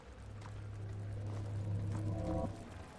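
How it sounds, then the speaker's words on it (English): Water floods a room in Amnesia: The Dark Descent as a low, steady rushing drone with rising tonal groans, heard alone and moderately loud. "Water, water, water! It's flooding in here!"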